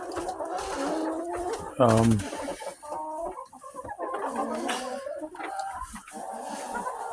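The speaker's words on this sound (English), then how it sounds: "Most of my chickens are fairly friendly." Chickens cluck and murmur nearby, with one louder squawk early on and a steady backdrop of soft farmyard chatter.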